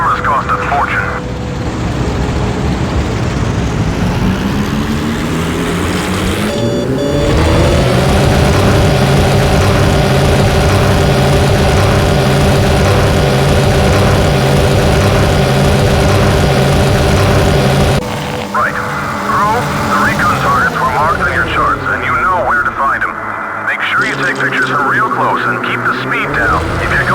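A Lockheed Lightning recon plane taking off in the 2005 PC game Heroes of the Pacific: a loud, steady engine drone that rises in pitch as it gathers speed, with a voice talking over the roar at times.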